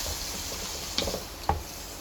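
Spicy chicken liver and gizzard fry over high heat in a pan, a soft steady sizzle broken by two sharp stirring scrapes and knocks close up, with no talking.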